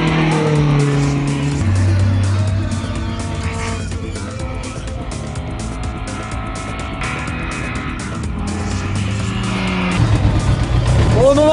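A race car at the Ronde du Ventoux rally roars loudly and close from an onboard position, its engine rising and falling through gear changes, with tire squeal and talk heard over the engine.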